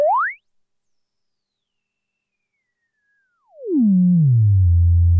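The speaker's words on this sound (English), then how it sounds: "Halfway, 12 o'clock, it starts to self-oscillate." An Erica Black VCF lowpass filter at high resonance self-oscillates into a pure whistling sine: a short upward chirp, a pause, then a loud tone gliding downward and settling into a low steady hum.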